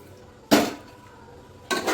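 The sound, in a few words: hot water poured into chicken curry pot, then covered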